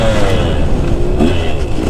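A KTM 150SX two-stroke motocross bike at full throttle on a practice track, its engine screaming steadily loud and close for the whole stretch with a slight rise in pitch.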